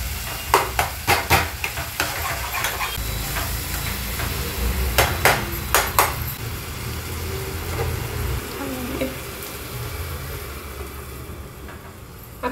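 Paneer bhurji masala roasting in oil in a pan gives a steady sizzling hiss, with a quick run of sharp spatula scrapes and clacks near the start and again mid-way as the mix is stirred.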